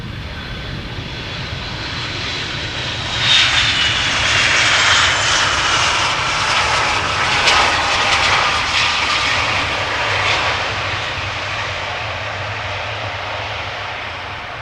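A 24-year-old Boeing 757-300 arriving from Reykjavik passes at Schiphol, its engine roar swelling from a steady broadband rumble to a louder peak midway, then holding strong before easing slightly, with no voices.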